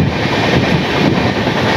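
A train rumbles and roars continuously at close range while crossing Gosaidanga railway station in North Bengal on a Kolkata to Dibrugarh journey, a dense, steady rolling noise with faint rhythmic knocks.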